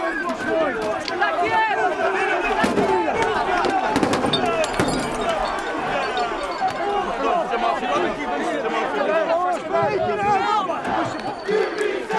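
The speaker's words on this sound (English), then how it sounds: "Some of the crowd attempted to push through police lines and were met with police batons." Protest crowd in Lisbon on November 14th pushing against police lines, with a dense roar of shouting and chanting voices, scattered bangs and a sustained close commotion.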